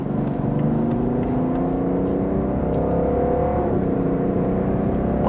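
BMW 5 Series Touring accelerating on a motorway in sport mode, heard from inside as a steady engine drone with rising tone under road and wind noise, loud and continuous.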